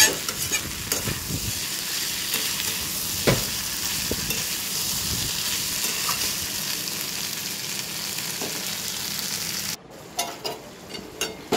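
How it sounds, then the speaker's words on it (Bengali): Shukto vegetables with spices, including a little Kashmiri chilli powder, being stirred in a pan, giving a loud continuous sizzle with repeated spatula scrapes and knocks before a short quieter stretch near the end. "এবার আবার একটু নেড়ে জল দিয়ে দেবো"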